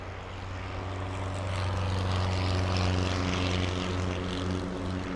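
A propeller airplane taking off at LAX, its steady droning engine roar growing slightly louder and holding close and strong throughout, with no talking.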